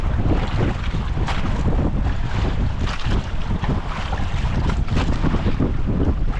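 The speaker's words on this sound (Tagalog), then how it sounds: "Lakas ang hangin." Strong wind roars over the microphone on a fishing boat at sea, a loud continuous buffeting rumble with gusts and the wash of waves beneath it, with no talk.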